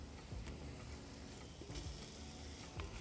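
Pancetta pieces with bits of rind frying in a pot for a lentil stew, giving a steady, close sizzle with light crackles and occasional stirring scrapes.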